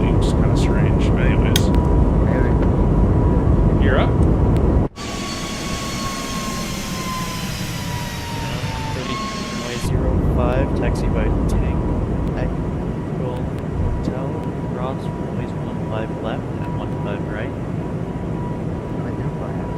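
An Airbus A220 airliner takes off in Microsoft Flight Simulator 2024, its jet engines roaring steadily throughout, with a brief change in tone midway as a voice talks over the engine noise.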